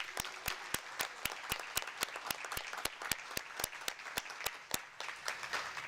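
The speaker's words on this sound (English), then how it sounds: "Let's give them another round of applause." An audience at a board of education meeting claps for staff, with sharp individual claps standing out over faint, scattered crowd applause that sounds distant and quiet.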